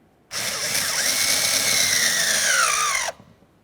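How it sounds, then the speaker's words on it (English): A power driver with a 7mm socket runs mounting screws into the door of a 2001-2005 Ford Explorer Sport Trac, one steady whirring burst of about three seconds, close and loud, winding slightly down in pitch just before it stops. "Let's put in our two mounting screws along here. Use my 7mm to get those in there."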